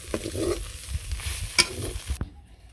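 Leafy greens (shak bhaji) frying in a pan, with a soft sizzle under repeated scraping stirs of a spatula, ending abruptly in quiet.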